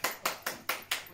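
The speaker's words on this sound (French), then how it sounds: "On applaudit!" Hands clapping at home, six sharp evenly spaced claps in a steady rhythm, close and fairly loud, with no talking over them.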